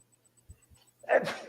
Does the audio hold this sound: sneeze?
yes